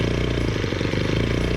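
A small Ryobi 4-cycle weed wacker engine runs steadily at close range, a continuous buzzing putter with an even rapid firing rhythm and no talk.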